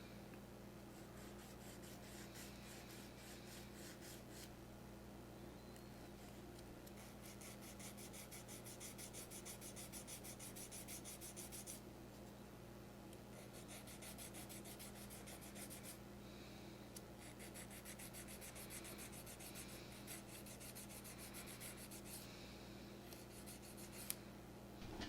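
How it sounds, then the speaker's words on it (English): Steady fine rasping of sandpaper worked in small circles over the oleo section of a plastic P-38L Lightning model's landing gear struts, soft and continuous with brief pauses and no talk. "basically you want to sand with like a circular motion"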